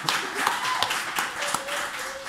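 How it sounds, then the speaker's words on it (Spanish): A comedy show audience applauds in a steady, moderately loud wash of clapping with a few sharper claps, and faint tonal sounds run beneath it. "Un aplauso más."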